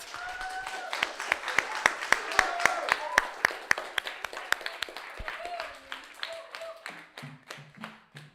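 Audience applause at an open mic night between acts, loose individual claps sounding fairly close and distinct, fading and thinning toward the end as a voice begins speaking over the last few seconds.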